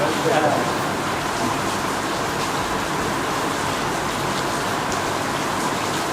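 Steady rain falls in an even, dense hiss that fills the whole stretch, with a faint voice murmuring beneath it.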